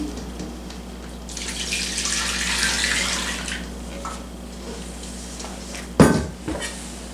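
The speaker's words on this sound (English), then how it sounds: "So we are going to pour this over the roast." Balsamic sauce is poured over roast beef in a slow cooker, a close liquid splash running for a couple of seconds, followed by a sharp clunk and a few light knocks.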